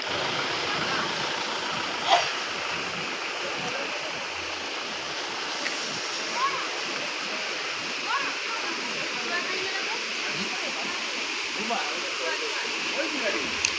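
A waterfall at a picnic spot at Dubla Ghadi roars steadily, a dense, continuous rush of water with people talking over it throughout.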